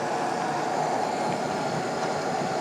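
A Conrail SD70 locomotive in the Trainz railway simulator game rumbles steadily with a continuous rail-and-engine roar, close and loud throughout with no talk.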